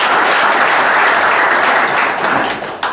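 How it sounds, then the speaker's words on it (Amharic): A hall full of people gives sustained applause at an Ethiopian community celebration of Ginbot 20 and the renaissance dam in Frankfurt, a dense steady clapping that tapers off near the end. "ለእሳቸውም የምስጋና ጭብጨባ ነው።"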